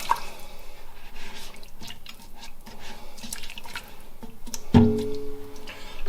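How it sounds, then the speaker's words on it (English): Rogan Josh spice blend being stirred into beef curry in a pan, giving soft wet squelching and scraping, a quiet steady murmur with one sharper clunk near the end, no talking. "put the Rogan Josh blend in, and I'll just stir it in"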